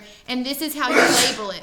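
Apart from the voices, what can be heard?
sneeze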